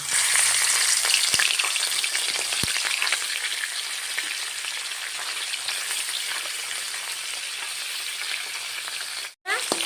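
A snakehead fish head coated with turmeric and salt fries in hot oil in a wok, a loud, dense, steady crackling sizzle with a brief break near the end.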